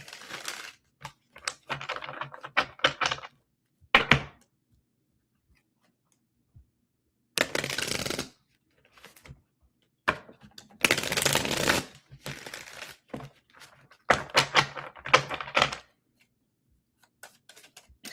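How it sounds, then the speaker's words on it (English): Tarot cards are shuffled close by in repeated bursts of fast riffling and flapping, separated by short silent pauses. "let me get like some shuffles in here"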